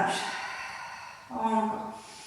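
An exhalation through the mouth during a Pilates breathing exercise, a soft breathy rush that swells briefly and fades, close and alone.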